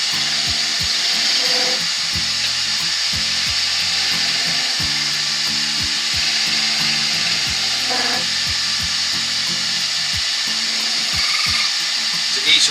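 A wood lathe makes light gouge cuts on a turned wooden mushroom supported at one end, a steady whirring hum with a broadband cutting rasp and repeated sharp ticks, under background music.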